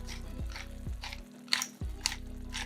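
A sour cream filling, seasoned with salt and black pepper, is stirred in a frying pan with a few short scraping strokes and faint sizzling over background music.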